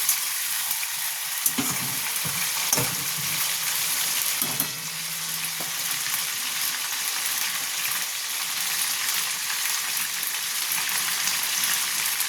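Chicken and bottle gourd frying in a pan make a continuous sizzle, close and fairly loud, broken by a few stirring clatters and scrapes early on before settling back into steady frying.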